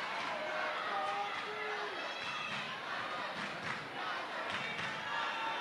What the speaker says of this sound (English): you can hear the crowd yelling for you.